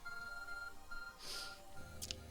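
A ringing chime from the Arc Phone in the video game Pokemon Legends Arceus, a short bright tone burst over steady background game music, followed by a second quick electronic ping.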